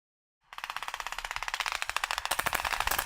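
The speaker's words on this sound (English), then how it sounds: "What looks and sounds like real gunfire are blanks." Blank rounds fired by reserve troops in a mock military raid at 5 Wing Goose Bay: a sudden loud burst of rapid automatic gunfire, steady rattling shots running continuously and close.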